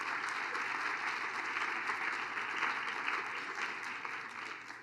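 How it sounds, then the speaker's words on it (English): Audience applause during a conference closing session, a fairly quiet but continuous patter of many people clapping together, holding steady for several seconds and easing slightly toward the end. "if we can just give them a round of applause for those who are following"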